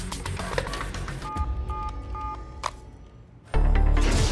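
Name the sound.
telephone being dialed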